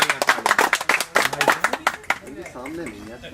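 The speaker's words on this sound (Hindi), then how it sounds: "तालियां, तालियां।" Audience clapping during a comedic political sketch, a burst of sharp claps in the first two seconds that thins out as a voice starts talking over it.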